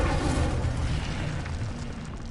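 The Incendio fire spell is cast in Hogwarts Legacy, giving a steady, roaring whoosh of flame with a deep rumbling body, loud and close, lasting a couple of seconds without pause.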